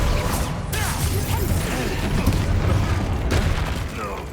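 Blasting-spell explosions in the video game Hogwarts Legacy during a spell battle, loud booms and crashes with mechanical clatter and whooshes in a dense continuous barrage, with voices talking over the combat.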